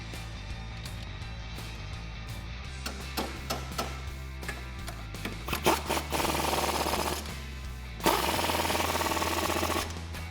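A wrench clicks and ratchets in quick bursts while nuts are run down onto the strut bolts of a 2015-2019 Mustang GT during a BMR lowering spring install. The sharp, close metallic ticks come in uneven runs, busiest toward the end.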